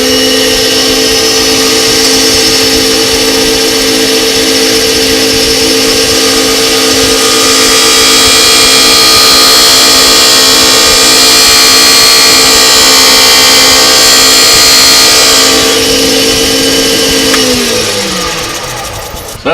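A loud, steady mechanical whine of a spinning lathe with a chisel cutting finger-grip grooves into a turning pen, winding down near the end.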